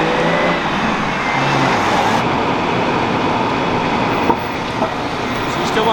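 A 1996 V6 manual car cruising on the road at steady speed, with a continuous broadband road and engine rumble inside the cabin and a couple of faint knocks.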